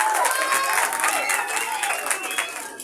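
A school audience applauds for a child performer at a children's Independence Day (14 August) program, dense clapping with some crowd murmur and voices mixed in, steady and fairly loud throughout.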